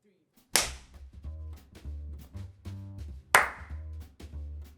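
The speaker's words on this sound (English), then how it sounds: "I'm going to let you clap" On a podcast set, a couple of sharp, close claps ring out alone with a bright snap, two separate strikes a few seconds apart, with a low tonal rumble between them.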